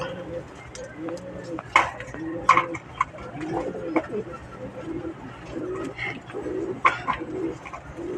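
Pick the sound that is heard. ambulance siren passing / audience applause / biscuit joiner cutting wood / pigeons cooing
pigeons cooing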